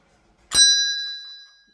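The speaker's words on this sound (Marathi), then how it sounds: "घंटी वाजवून" A temple bell inside a Mahadev (Shiva) temple is struck once, giving a sharp metallic clang followed by a clear ringing tone that slowly decays over about a second.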